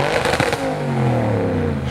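A supercar engine revs hard nearby, rising to a loud, harsh roar that then holds steady with a deep droning tone.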